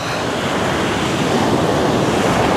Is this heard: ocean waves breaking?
yes